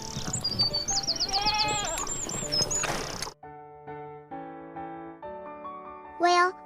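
Goats bleat several times in quick, wavering cries over rough background noise. Music follows, and one more loud bleat rises near the end.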